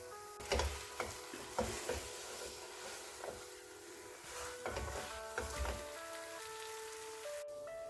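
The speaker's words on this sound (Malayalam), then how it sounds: "എന്നിട്ട് നല്ലതുപോലെ ഒന്ന് ഇളക്കി യോജിപ്പിക്കണം." A spoon stirs a thick banana burfi mixture of mashed banana, ghee and ground cardamom in a pan. Soft, uneven scraping and gentle sizzling sound up close, with a few louder knocks and no talking.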